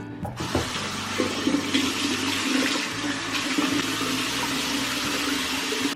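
Water runs steadily from a tap and splashes close by, with intermittent wet rubbing and splashing sounds of a face being washed by hand.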